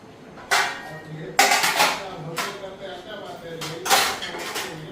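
Potatoes and pointed gourd are cut in a home kitchen, giving several sharp knocks and clatters of knife and utensils, with a voice talking in between.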